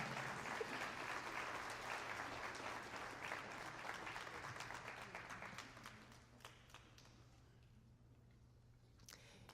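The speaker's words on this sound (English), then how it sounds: "Continue your applause, congratulating her as Dr. Gibbs comes forward to receive her pin." Ceremony audience applause at a history calendar unveiling, sustained hall-wide clapping that stays dense and steady, then thins and fades into scattered claps toward the end, heard at a modest distance.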